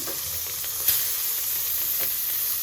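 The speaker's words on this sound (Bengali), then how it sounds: "আমি তেলটা আগে থেকেই গরম করে নিয়েছি, এখন মাছটা ভেজে দিব হালকা করে" Hilsa fish frying in hot oil in a wok, a steady close sizzle and hiss with small pops and crackles, no voices.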